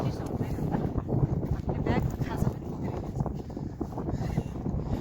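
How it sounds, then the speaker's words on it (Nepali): Wind buffets the microphone in a steady low rumble, with faint voices and movement underneath. "तातो हुन्छ माथिको भन्दा त हावा चलिरहेछ"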